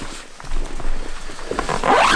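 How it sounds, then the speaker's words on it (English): A zipper pulled along the expandable outer pocket of an F-Stop Gear Tilopa photography backpack, a close, loud ripping zip running steadily and rising in pitch near the end. "They've got a nice outer zip too, that if you want to expand it, you can."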